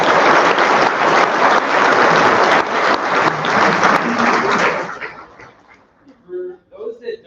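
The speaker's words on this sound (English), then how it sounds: "I know we're going to clap a lot today, but let's give it up for the class" An outdoor audience applauds a graduating physical therapy class at a white coat ceremony, dense sustained clapping for about five seconds that fades out, followed by faint speech.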